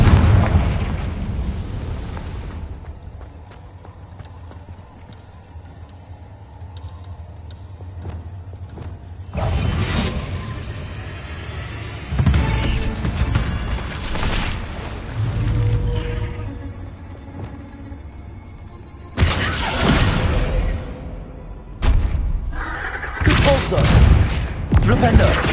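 Confringo fire-blast spells cast in Hogwarts Legacy, several loud booming bursts landing at irregular intervals, each erupting over a quieter rumbling game backdrop.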